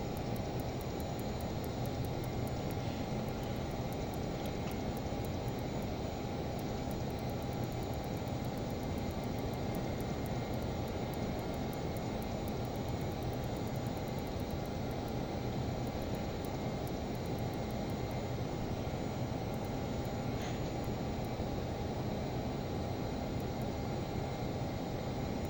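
Learjet 35A jet engines whine and roar steadily while taxiing in Microsoft Flight Simulator, a constant broadband hiss with a faint high tone, unchanging throughout with no talking.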